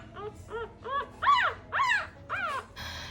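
Newborn puppies in a litter of six whimper in a rapid run of high, rising-and-falling squeals, about seven cries in three seconds, close and clear with no talking.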